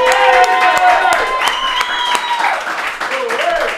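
Studio applause welcoming a guest onto a Spanish-language talk show, with clapping and crowd noise under loud, overlapping voices and cheering, which carry pitched, sung or shouted tones.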